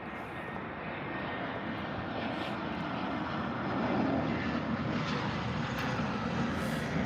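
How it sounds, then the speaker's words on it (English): An easyJet Airbus A320 airliner taxiing at Birmingham airport gives a steady, moderately loud jet whine and rumble that swells slightly midway, heard from a distance with no voices. "EasyJet A320. And he's about to miss it."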